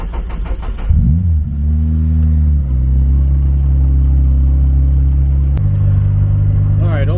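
A turbocharged Honda S2000 engine idles as a steady deep drone, then rises into a held rumble that changes pitch partway through. The engine sits close and loud throughout, and some talk comes through early on.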